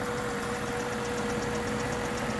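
A 2007 Cadillac DTS with the Northstar engine and 87K miles runs at a smooth, steady idle, an even low hum with a faint regular ticking, close and alone.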